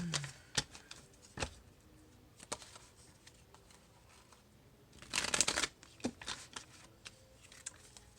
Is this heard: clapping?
no